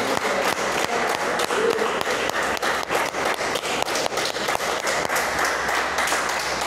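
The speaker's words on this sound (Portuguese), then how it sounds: "Vamos aplaudir o Senhor." Congregation applauding God during a Portuguese-language church sermon, dense sustained clapping with sharp individual claps standing out, steady and fairly loud throughout.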